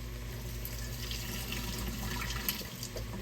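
Water pours steadily and continuously while potatoes are drained in a kitchen, a close, even rush of running liquid with a faint splash near the end.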